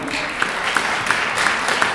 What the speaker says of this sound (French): Christophe Hamon, vous pouvez applaudir.